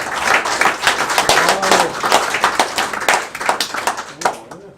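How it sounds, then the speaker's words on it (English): A room of guests at a Christmas shoot gathering breaks into a round of applause, dense overlapping clapping that stays loud and fairly close before thinning out at the end. "I think we should give them a round of applause, because they're well worth it."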